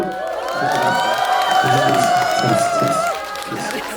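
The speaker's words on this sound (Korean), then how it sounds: "한번 큰 박수" A concert crowd at a 20th-anniversary show bursts into loud cheering, whooping and clapping, with shouts and high-pitched voices ringing over the applause throughout.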